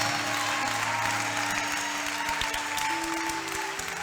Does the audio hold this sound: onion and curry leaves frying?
no